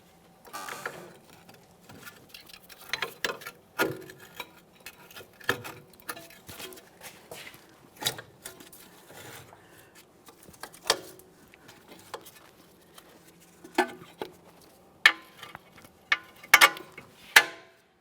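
A ratchet tightens the 19mm mounting nuts on a front strut assembly of a 2008-2017 Mitsubishi Lancer. Close, irregular bursts of sharp clicks stop and start over a quiet background.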